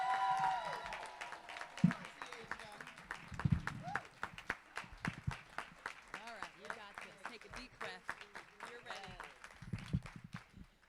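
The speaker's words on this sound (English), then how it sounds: "Please give an encouraging round of applause for Tiaja" Scattered hand claps from a school convocation audience ring out for a student, individual sharp claps in an uneven rhythm that thin out, with voices and murmuring speech running underneath.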